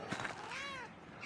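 A cat meowing in the video game Pentiment: one fairly faint, drawn-out meow with a rising then falling tone, alone and without talk.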